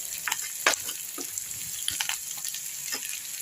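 Green chillies sauté with a pinch of salt in a pan for Andhra-style chutney, giving a soft continuous sizzle broken by sharp clicks and scrapes of stirring, with no talking.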